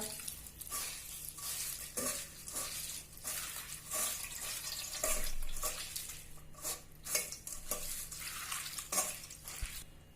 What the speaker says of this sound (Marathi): आता आपण पाण्याने ते स्वच्छ धुवून घेऊया